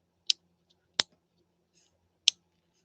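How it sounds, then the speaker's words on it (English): The stitch length dial on a JUKI TL 2020 PE sewing machine gives three crisp, separate clicks, close and sharp, spaced irregularly in a quiet room. "isn't that a fun little clicking sound?"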